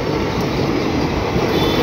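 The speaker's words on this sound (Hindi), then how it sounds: "इज्जत नगर न्यू इज्जत नगर WDP 40 Twins and this is Kathgodam Lucknow 15044 express" A pair of WDP4D diesel locomotives hauls the Kathgodam–Lucknow 15044 Express past, a loud, steady roar of engine and rolling wheels that fills the whole stretch with no breaks.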